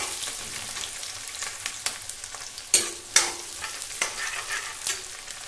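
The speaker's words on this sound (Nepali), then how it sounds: "प्याजलाई हल्का ब्राउन हुँदा भेजमा मैले यसलाई फ्राई गर्छु।" Sliced onion fries in oil toward light brown for an eggplant curry, a steady soft sizzle broken by several sharp spoon-against-pan clacks of stirring, close and moderately loud.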